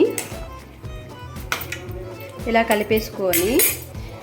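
A spoon stirring drumstick rasam in a metal pot, Godavari style: clinking, scraping and ringing metal-on-metal strokes, close and moderately loud, with a few pings, over a faint simmer.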